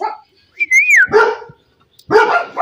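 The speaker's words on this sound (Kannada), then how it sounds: "ನೋಡಿ ಎಷ್ಟು ಆ್ಯಕ್ಟಿವ್ ಆಗಿದೆ ಪಪ್ಪಿ ಇದು." A male pug puppy gives a squeaky rising whine followed by two sharp, close, loud yappy barks, with short quiet gaps between.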